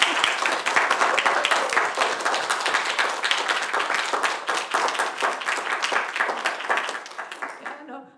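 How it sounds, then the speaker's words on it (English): Sustained applause from an audience for thesis students after their presentations at a master's student showcase, dense steady clapping that holds for several seconds before thinning out at the end. "give a massive applause to these incredible thesis students"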